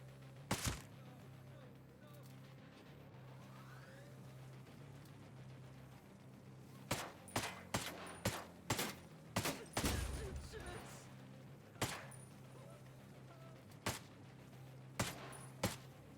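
Gunshots crack out in the tactical shooter Ghost Recon Breakpoint, a quiet scene broken by one early shot and then a quick irregular volley of sharp reports, with a few isolated shots following over a low ambient hum.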